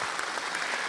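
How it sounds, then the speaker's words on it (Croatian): Studio audience applause on a TV show, a dense burst of many hands clapping at once, bright and steady, with no talk over it. "ajmo aplauz za našu dragu Saru"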